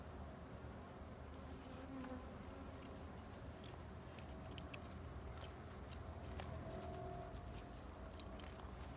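A Buckfast-descended honey bee colony hums with a steady, faint buzz throughout, with brief higher whines of individual bees passing close and a few light clicks, no speech.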